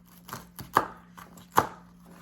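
Walnuts and pecans are chopped on a cutting board in a kitchen, giving a few sharp, separate knocks at an uneven pace, close and moderately loud, with no talking.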